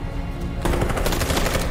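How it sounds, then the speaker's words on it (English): Rapid automatic gunfire in the video game Detroit: Become Human, a loud dense burst of shots that swells and continues steadily. "they're about to start shooting anyways?"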